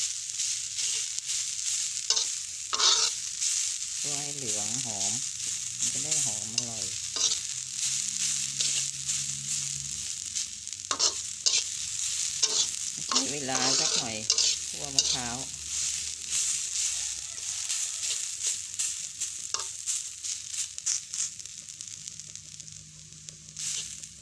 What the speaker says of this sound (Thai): มะพร้าวนี่คั่วให้จน หอมเหลืองเลย